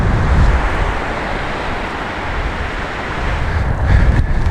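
Steady wind buffets the microphone on a beach while surfcasting, with a small swell breaking in a constant rushing wash of surf, loud and close, with no voices.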